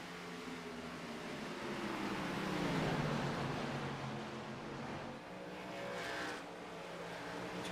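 Race cars circle Phoenix Raceway in a NASCAR O'Reilly Series racing video game, a steady broad engine drone rising and fading as cars pass, moderately loud with no talk.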